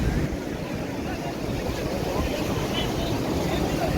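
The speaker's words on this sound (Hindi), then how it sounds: "जानबूझ के मैंने लहरों की रियल आवाज़ ही रखी क्योंकि आपको रियल एक्सपीरियंस होना चाहिए।" Ocean waves wash onto a beach in Goa in a steady rushing surge, with wind buffeting the microphone close by.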